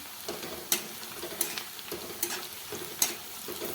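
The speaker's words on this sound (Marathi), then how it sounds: "आणि कांदा पण आता थोडासा परतायला आलाय, झाल्यासारखं झालंय." Onion sautéing with peanuts in a pan for a quick poha breakfast, with a soft steady sizzle broken by several sharp spoon-stirring clinks and scrapes, close and alone.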